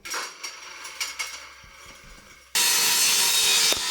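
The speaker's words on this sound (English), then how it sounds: "With the proper support, sawing the boards is a lot easier." Rough back-and-forth rasping of a hand saw through supported wooden boards, a few strokes, then a louder continuous grinding cut up close.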